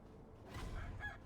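Roosters crow in the Sekiro video game, a single shrill, rising call that swells mid-clip and fades out, heard close over a low, steady ambient rumble with no voices.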